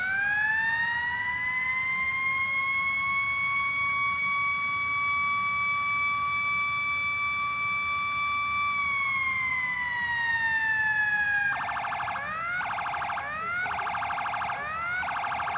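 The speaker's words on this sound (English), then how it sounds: "Once I find a dedicated fire apparatus, this will be the siren for that." A video game fire truck siren holds a long steady wail, then slides down and switches to a rapid pulsing yelp, loud and continuous throughout.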